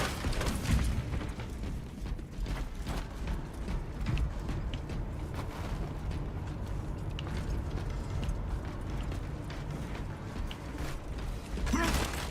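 Elevator machinery creaks and clanks in Warhammer 40k Space Marine 2, a continuous grinding mechanical rumble with irregular metallic knocks and creaks over about twelve seconds, moderately loud and without speech.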